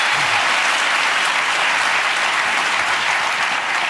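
A studio audience at the British panel show Have I Got News For You applauds steadily and loudly, a dense, continuous wash of clapping with no break and no voices over it.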